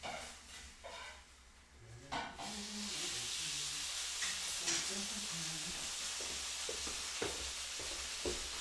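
Steady frying sizzle of steak in a pan, with a bright hiss that swells after a moment and continues, with occasional clinks and small knocks.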